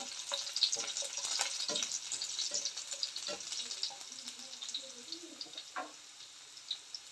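Chopped garlic fries in hot oil for a tasty kovakka (ivy gourd) puli pickle, crackling and sizzling close up with sharp popping bursts and light stirring, easing toward the end.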